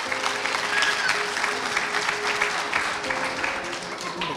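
A parish congregation applauds at a St. Patrick's Catholic Church gathering, with dense, sustained clapping from a crowd filling the room at a steady level throughout.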